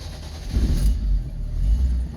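A Honda Civic with a two-speed Hondamatic turns over and catches, settling into a low, steady idle rumble close by, with no talking.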